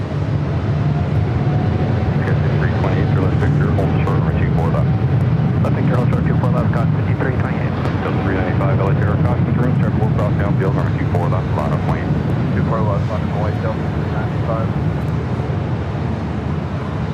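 An Air France heavy jet airliner roars down LAX runway 24 left on its takeoff run, a loud sustained engine rumble with a rising whine, heard up close while radio chatter from air traffic control plays over it.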